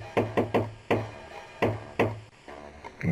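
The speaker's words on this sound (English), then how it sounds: "Knock on the door using the secret knock." Rhythmic secret-code knocking on a door in the video game Jazzpunk, a pattern of sharp wooden raps in uneven groups with short pauses between, clear and close with no talk.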